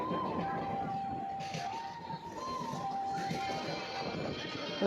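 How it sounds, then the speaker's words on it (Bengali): A train arrives at a station, a low continuous rumble with a sustained whistle-like tone running through it, while people talk nearby. "ট্রেনটা এসে গেছে।"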